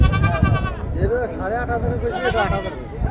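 A black Bengal mother goat bleats repeatedly in a busy livestock market, its wavering cries loud and close over steady crowd chatter and other animal noise.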